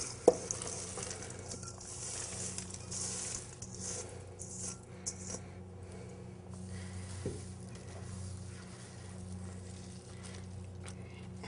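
Peas are stirred into a simmering mutter paneer sauce in a pan, with a soft, steady sizzle beneath intermittent spoon scrapes and a couple of sharp metallic clinks, quiet and close.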